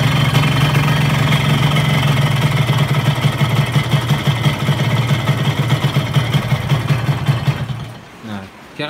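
A Yamaha RX King two-stroke motorcycle engine, its block ported for daily riding, idles with a loud, rapid, uneven burbling pulse close by before it fades and nearly dies out at the end.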